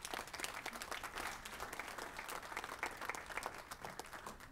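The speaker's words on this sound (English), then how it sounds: "If we could give them one more round of applause." Audience applause at a community heroin awareness presentation, sustained steady clapping from a room of people for a panel, moderately loud and continuous for several seconds with no speech.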